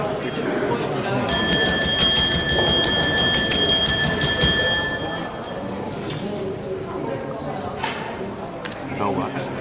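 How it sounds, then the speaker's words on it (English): A bell rings at a council meeting, a steady bright metallic trill lasting a few seconds, loud and close, with people talking underneath throughout. "Bell works."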